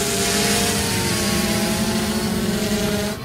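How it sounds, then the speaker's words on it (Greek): A Mi Drone 4K quadcopter flies and manoeuvres nearby, its steady rotor whine holding loud and even for about three seconds, alone with no talk, then dropping off slightly at the very end. "κάνω λίγο πιο μανουβράτη πτήση τώρα."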